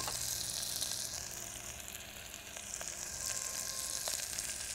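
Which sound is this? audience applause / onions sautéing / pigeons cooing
onions sautéing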